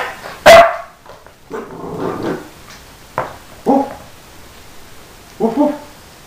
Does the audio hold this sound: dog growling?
yes